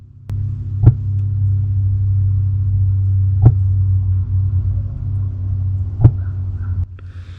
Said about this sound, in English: I can see the pilot light and it's poofing right now